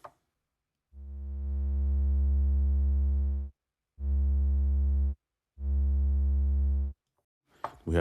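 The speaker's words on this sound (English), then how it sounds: "Let's listen to the triangle." Triangle wave from a Cherry Audio GX-80 synthesizer, a smooth, mellow low tone played as three sustained notes of shrinking length, steady and fairly loud, with no talking.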